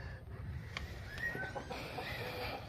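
Chickens, including shamo gamefowl, on a farm after a typhoon, with scattered soft clucks and short calls over a steady low rumble of background noise.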